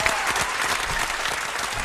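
A crowd in a room applauds loudly and steadily throughout, a dense continuous wash of clapping with some cheering mixed in.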